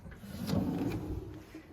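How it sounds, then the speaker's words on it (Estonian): A soft-closing cabinet drawer slides open with a quiet, smooth rumble that swells and fades over under two seconds, faint and close, with no talking. "Ühe käega sahtlit ei taha lahti teha."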